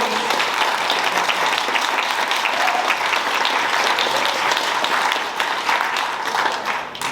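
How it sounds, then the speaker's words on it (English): Steady, dense applause from a large audience at a church celebration honoring senior wardens, loud and continuous for several seconds before tapering off at the end. "They deserve a round of applause"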